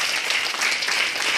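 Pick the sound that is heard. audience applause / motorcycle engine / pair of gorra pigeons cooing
audience applause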